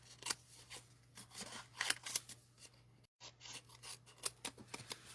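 Scissors trimming a stamped paper piece for a card craft, a series of close, crisp snipping cuts in an uneven rhythm with a brief gap midway.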